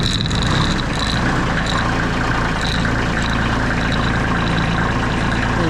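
A cold diesel tractor engine runs steadily after starting, warming up in a low, continuous idle rumble that holds at a constant loud level throughout with no voices.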